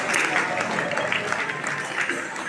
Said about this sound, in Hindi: ताली मत मारिए, जब जयकारा लगता ताली मत बोले